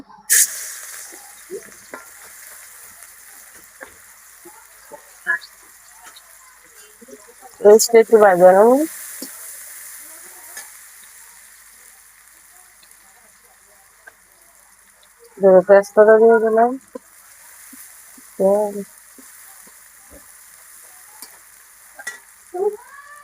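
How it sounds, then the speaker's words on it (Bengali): Mustard paste frying in oil left over from frying pabda fish, a steady soft sizzle running throughout with a few short bursts of voice-like sound breaking in now and then. "মাছ ভাজার পরে যে তেল আছে ওই তেলে আমি পেস্ট দিয়ে দেবো"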